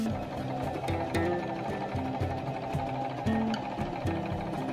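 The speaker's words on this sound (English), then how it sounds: "I'm just going to run 1 stitch down the open side" A sewing machine running a stitch line down curtain fabric for camper van curtains, fast rhythmic mechanical chatter in short repeated bursts with brief pauses, close and clear.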